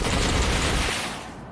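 Rapid gunfire from combat mechs in the video game Mech Arena crackles as a dense, loud burst that fades out over its last half-second, alone with no talking.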